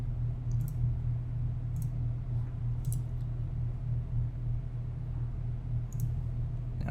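A computer mouse clicks a handful of times, sparse sharp clicks spaced seconds apart over a faint steady low hum in a quiet room.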